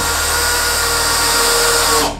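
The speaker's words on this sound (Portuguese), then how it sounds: "Começando o teste de aparafusamento com o parafuso" A Bosch GSB 185-LI cordless drill drives a 5x60 screw, a steady loud motor whine lasting about two seconds before cutting off abruptly.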